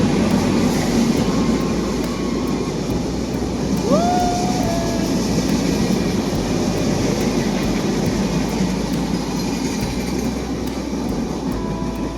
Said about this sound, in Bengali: একটু পরে সামনে থেকে ট্রেন আসবে